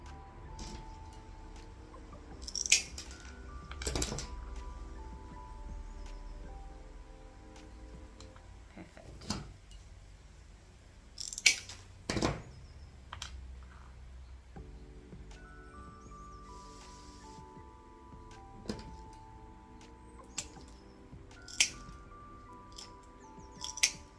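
Ceramic mosaic discs are trimmed with a handheld cutter, giving a few sharp, isolated snaps and clicks spaced through the clip between quieter handling noises, close and fairly loud.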